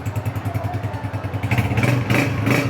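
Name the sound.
Honda 125 motorcycle engine running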